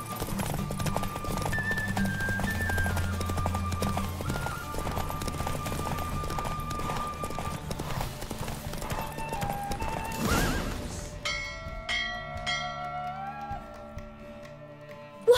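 A horse gallops in a race with steady clip-clopping hoofbeats and whinnies, close and lively beneath a game's music score, with a scattering of voices.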